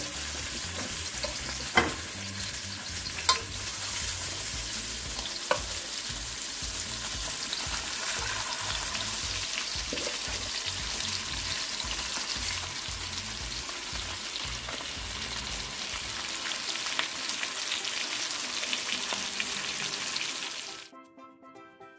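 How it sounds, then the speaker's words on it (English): Salmon frying in hot oil gives a steady, close, dense sizzle with occasional sharp pops and stirring clatter, fading out abruptly at the end. "I'm going to place the fish in the oil so it can just have a little bit of fry"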